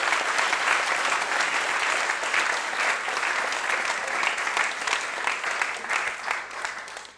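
An audience at a political campaign event in Dresden claps in a steady, dense burst of applause that fills the space for several seconds and then tapers off at the end.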